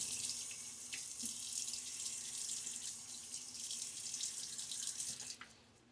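Tap water runs steadily into a sink while a face is wetted before a shave, a close, continuous hissing splash with small shifts as hands move under the stream, tapering off at the end.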